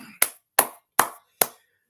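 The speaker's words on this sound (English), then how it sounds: "So again, clap it up." Four sharp, evenly spaced claps ring out close and alone, each a crisp broadband slap with a short decay, followed by silence; sounds more like one person clapping a beat than a full audience.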